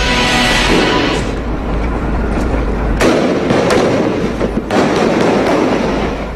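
Heavy gunfire during a government troops' clearing operation against Maute group members in Marawi City, sharp loud bursts and cracks over a dense, continuous roar, with no talk.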